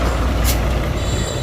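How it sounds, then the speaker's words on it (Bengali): A large truck rumbles loudly and close on a road, with a deep, steady engine roar and a brief hissing burst partway through. "সামনে বিশাল এক ট্রাক"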